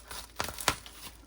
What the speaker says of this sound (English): it is wrapped up in cellophane, so I'm just gonna cut it